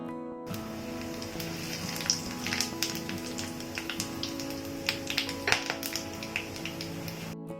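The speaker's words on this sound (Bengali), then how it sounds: "এইগুলো সব একসাথে ফোড়ন দিয়ে দেবো" Whole spices, small cardamom, mace petals and cinnamon sticks, fry in hot oil for tempering a katla fish kalia, giving a steady soft sizzle scattered with sharp crackles and pops close by, with no talking.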